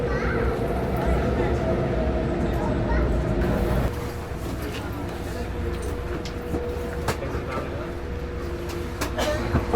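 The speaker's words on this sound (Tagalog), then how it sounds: "The next train will be here in 2 minutes." A train pulls into a busy Hong Kong station, a steady low rumble and hum with a brief drop in level midway, surrounded by platform crowd noise and people talking in the background.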